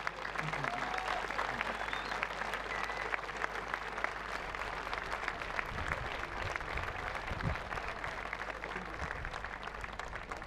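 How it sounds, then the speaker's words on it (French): A crowd applauds steadily for the volunteers at the start of an ultra trail race, dense clapping sustained throughout at an even level in an outdoor setting. "on va commencer par applaudir tous les bénévoles qui se sont levés à 4 h du matin pour vous"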